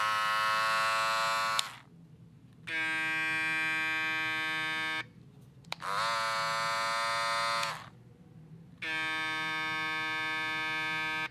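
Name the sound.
Andis Master electric hair clippers running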